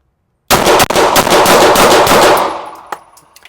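Rapid Glock pistol shots in a bill drill, a fast string of loud close reports blurring into a continuous roar for about two seconds, then fading echoes and a few faint clicks.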